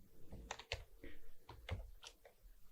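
Quiet typing on a computer keyboard, a short run of irregular clicking keystrokes with small pauses between them and no speech.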